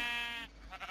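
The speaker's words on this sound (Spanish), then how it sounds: "Hola, señoras ovejas." A sheep in a video game lets out a single short bleat, faint and close, then trails off into a quieter second bleat.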